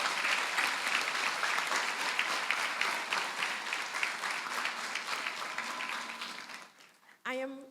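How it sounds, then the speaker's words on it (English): An audience at a Model United Nations opening ceremony applauds in a full, steady wave that fades over several seconds, followed by a speaking voice. "can we please have another Leslie round of applause"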